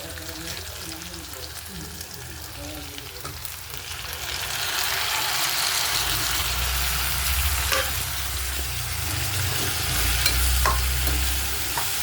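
Tomatoes sauté in a pan with dried chillies for a tomato peanut chutney, a soft sizzle building into a louder, steady fry as the mixture is stirred, with a voice talking over it.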